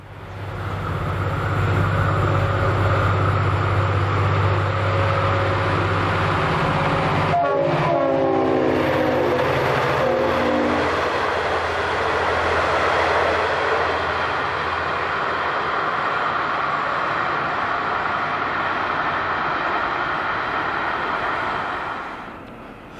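An Albury intercity train sounds a long, steady horn as it approaches, then rushes past with a loud, sustained roar and rail noise that holds for many seconds before fading.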